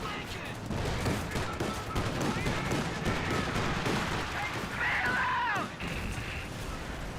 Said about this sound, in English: A small arms fire.